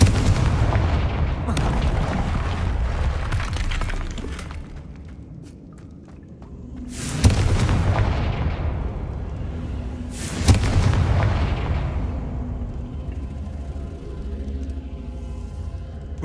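Confringo blasting curse explosions in the Hogwarts Legacy video game: two heavy booming blasts with sharp onsets and long rumbling decay, over a loud low roar of game noise.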